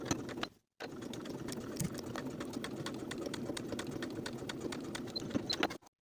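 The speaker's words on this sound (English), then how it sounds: "I'm going to top stitch my lining to its seam allowance, sewing about 1/8 inch away from the original seam line" A sewing machine topstitching a wool jacket's lining to its seam allowance runs in a steady, rapid mechanical rattle after a brief pause near the start, then stops abruptly.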